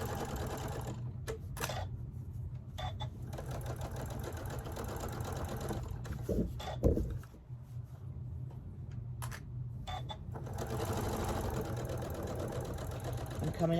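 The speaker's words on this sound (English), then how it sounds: "I'm going to start sewing from that point all the way up to my black dot again." A sewing machine runs steadily while stitching the seam of a neck pillow and backstitching. The motor hum continues for nearly the whole stretch, with short pauses and a brief thump partway through.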